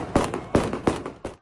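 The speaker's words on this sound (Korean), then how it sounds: "철조망 넘어 활주로로 들어가려는 주민들을 향해 총소리가 들립니다." Gunfire at dawn near Kabul airport, aimed at crowds trying to cross the barbed-wire fence onto the runway, comes as four sharp, echoing shots spaced roughly a third of a second apart, at moderate distance with no talk.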